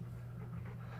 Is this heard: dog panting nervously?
yes